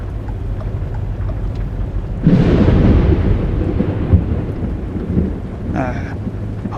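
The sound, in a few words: thunder in the video game American Truck Simulator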